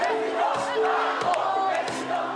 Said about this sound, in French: Acclamé par la foule, le vainqueur du premier tour de la présidentielle exulte.